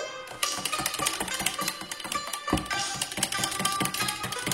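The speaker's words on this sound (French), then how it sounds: "je vais fouetter un petit peu pour amalgamer le tout" Liquid vanilla being whisked into fermented milk (lben) for an almond semolina cake, a fast, steady run of clicking and tapping strokes against a bowl, close and continuous without a voice.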